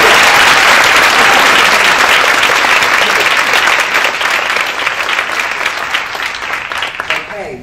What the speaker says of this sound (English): That was your applause.